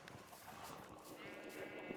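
Multicolored sheep on a video game farm give soft, faint bleats amid quiet background ambience, with a voice faintly present.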